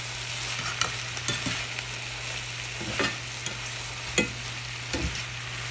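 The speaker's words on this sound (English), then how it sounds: "adding it all into the skillet, and just give that a stir, move it all around" Cooked chicken being stirred into a hot skillet with sauce, a constant close sizzle with several scraping stirs of a utensil across the pan.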